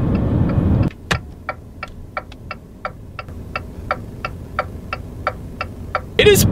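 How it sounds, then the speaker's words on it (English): Turn signal in a 2019 Jeep Renegade ticks loudly and echoey in a steady rhythm of about fifteen sharp clicks inside the cabin, after a brief hum and a switch click. "It is probably the loudest turn signal that I've ever experienced in a car"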